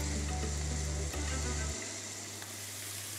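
Chicken pieces dropped into dark-bubbling caramelized sugar in a pan sizzle loudly and steadily up close, while a low background hum cuts out partway through.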